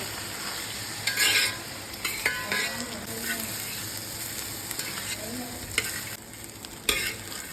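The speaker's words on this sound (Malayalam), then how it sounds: "ഈ അരി നമ്മൾ ചേർത്തിട്ട് ഒന്ന് വഴറ്റിയെടുക്കണം" Rice being sautéed in ghee in a pan for pulao sizzles steadily while a spoon stirs it, with a few sharper scraping strokes standing out over the continuous frying hiss.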